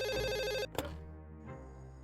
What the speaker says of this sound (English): One day, the museum phone rang.